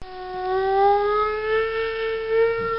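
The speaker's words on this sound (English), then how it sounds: "Tornado sirens go off when we're put into a tornado warning" A tornado warning siren in Chicago wails on its own, one steady rising and sustained tone that swells and fades slightly as it rotates, loud and clear with no voices.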